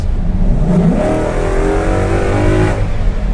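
A 1965 Ford F100 pickup with a swapped-in Ford Coyote V8 drives along, its engine note holding steady and close, then rising as it pulls, with no talking over it.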